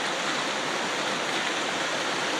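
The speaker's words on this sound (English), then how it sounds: "this is what happens to our sleepy little river when we get about 6 inches of rain here" Swollen Blanco River after about six inches of rain, rushing in flood as a steady, dense roar of churning water, close and continuous with no talk.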